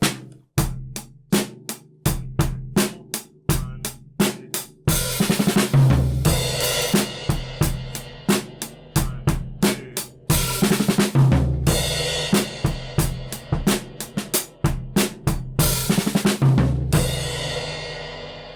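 A full drum kit keeps a beat under ringing cymbals, punctuated by rapid rolling snare and tom fills leading into crashes.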